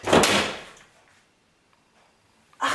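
A door bangs shut loudly at close range, a single heavy impact that rings out and decays, followed by near silence and then a second sharp knock or bump at the end.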